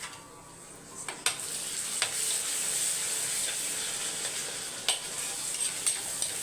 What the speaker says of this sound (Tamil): இப்போ வந்து கத்திரிக்காய் தொக்குக்கு நம்ம தக்காளி வதக்கி விட்டுருந்தோம்